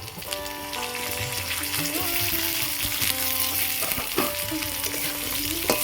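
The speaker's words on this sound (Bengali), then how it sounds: "বেগুনগুলো এই তেলের মধ্যে আমি ভাজা ভাজা করে নেবো" Eggplant pieces fry in hot oil in a pan, a loud steady sizzle with bubbling crackle and occasional stirring clinks, close up, no voices.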